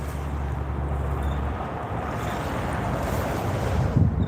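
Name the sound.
boat approaching on water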